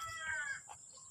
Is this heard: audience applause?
no